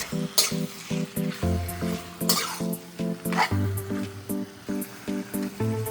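Chicken pieces frying in oil in a pan for a spicy Andhra-style fry, loud steady sizzling with repeated rhythmic tapping of a spatula stirring against the pan, close up and no talk.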